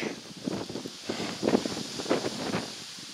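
Gusty wind in the Grayson Highlands, Virginia, buffets and rumbles against the microphone in uneven bursts, with a faint rustle underneath.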